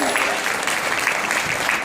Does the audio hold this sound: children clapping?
yes